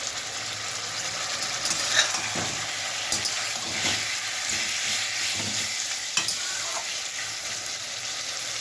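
Chopped tomatoes frying for a Bengali mutton curry, a continuous moderate sizzle with intermittent spatula stirs and scrapes against the pan.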